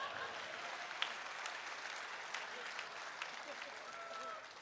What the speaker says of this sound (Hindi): ताली तो जोर से बजा दो।